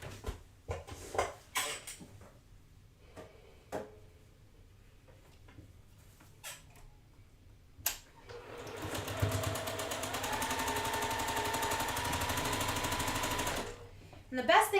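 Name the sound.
sewing machine sewing quilt block seams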